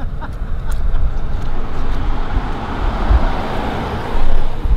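A Toyota Supra cruises through Palos Verdes, heard as a steady low engine and road rumble from inside the car at moderate loudness, with a slight swell near the end and no clear talking.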